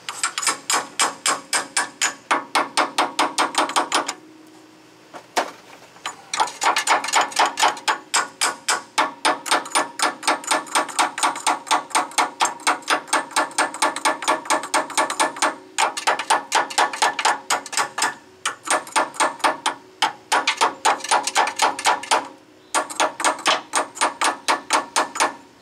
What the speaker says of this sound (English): You know it's right, and it still don't go, get a hammer.